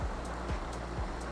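Rain falling at Venford Falls on Dartmoor, a steady close hiss of drops landing all around, with a few heavier drops standing out at regular intervals.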